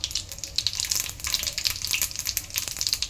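Dense, spitting crackle of mustard and cumin seeds popping and sizzling in hot oil, rapid irregular bursts close by.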